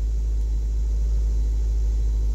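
A 2006 Nissan Altima engine idles fast and steady, a constant low rumble with a mid-range hum, close and alone with no talk over it.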